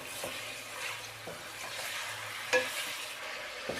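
Steady sizzling of chicken frying in hot oil, with occasional stirring scrapes and a brief sharp clink near the middle.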